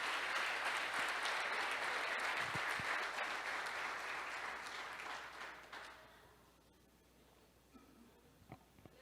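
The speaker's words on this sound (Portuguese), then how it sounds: "Vamos aplaudir a palavra de Deus." A church congregation bursts into dense, sustained applause that fills most of the space. After a few seconds it tapers off into scattered faint claps and room noise.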